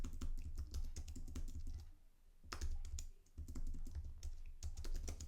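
Rapid clicking of computer-keyboard keys as a quiz title is typed, a steady close run of keystrokes with one brief pause midway, no voices.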